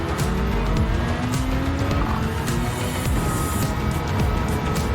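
Car tires squeal and skid under handbrake use in Gran Turismo 7, a continuous loud roar of engines and road noise with screeching tire sounds layered through it.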